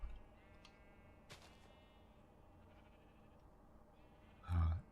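Sheep bleating in Minecraft survival mode: one short, loud bleat near the end of a quiet stretch, with faint ticking and clicking underneath.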